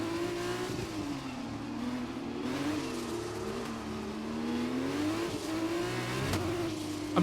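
Race car engine in the F1 2021 video game on Xbox Series X, a loud, close whine that revs up and down through gear changes, with a faint tire squeal and no talk.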